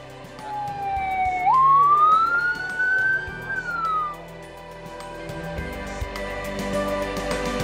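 A single ambulance siren wails loudly and close, its pitch sweeping upward then holding before fading out, with road and vehicle noise continuing underneath and no voices.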